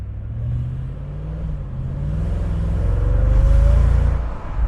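A 2004 Mercedes SL55 AMG convertible accelerates from about 2,000 RPM, its deep engine rumble swelling steadily louder with a rising tone, close and alone.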